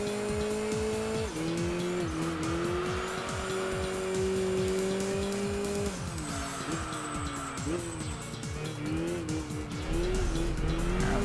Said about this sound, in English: A little bit of wheel spin through there.